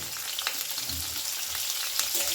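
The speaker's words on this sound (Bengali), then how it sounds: "নাড়াচাড়া করে বেশ ভালো করে ভেজে নিচ্ছি বড়ি এবং বাদাম" Bori lentil dumplings and peanuts frying in oil while being stirred, giving a steady, dense sizzle close by with soft scraping strokes underneath and no talk.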